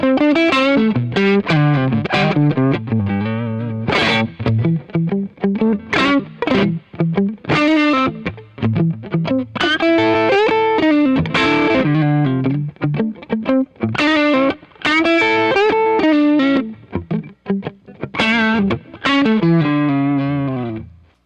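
Electric guitar played through a Wampler Clarksdale overdrive pedal, giving a mid-heavy, Tube Screamer-like blues tone: a continuous stream of loud, distorted single-note licks and bends with ringing sustain, alone without speech.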